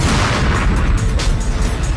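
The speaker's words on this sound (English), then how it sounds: "you have a really big cannon on there, and you can make things go boom" A big tank cannon fires in heavy deep booms with a rumbling blast that rolls on for a couple of seconds, loud and close, with no voices.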